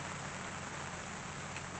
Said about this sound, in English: It did start raining, so that's good.